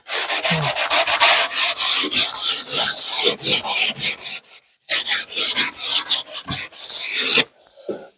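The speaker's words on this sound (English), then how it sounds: "Then I can get my sandpaper, not 80, it's 120." Sandpaper of 120 grit rasps back and forth along a wooden edge in rapid, steady strokes, close and loud, with a brief pause near the middle and another near the end.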